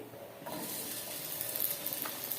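Onion sizzling as it fries in hot oil for a chutney, a steady broadband hiss that swells louder after the first half-second and holds continuously close up, with no talking.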